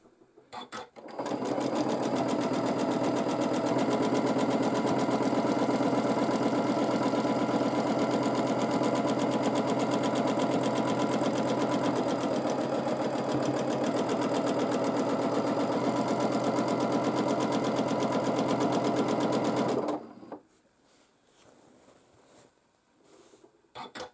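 A sewing machine running steadily at high speed while free motion quilting, a loud continuous whir held for about nineteen seconds before stopping, with no talk over it.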